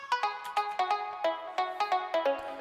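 A synthesized melody built in Ableton plays with every second note delayed, giving a bouncy, swung rhythm of bright, plucky tonal notes in a steady repeating pattern. It plays alone, with no voices.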